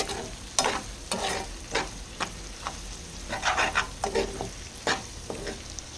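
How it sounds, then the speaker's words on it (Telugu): Ivy gourd and egg being stirred and frying in a pan: a steady sizzle runs under repeated sharp scrapes and clacks of a spoon against the pan, with no talk. "ఇలా దొండకాయలలో అన్నిట్లో కలిపేసుకోవాలి"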